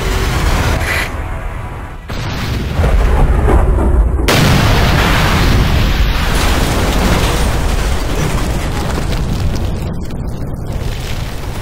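A massive air strike in the video game Ghost Recon: Future Soldier pounds the area with loud, continuous explosions and roaring blasts, dense and unbroken for the whole stretch, with sharp surges partway through.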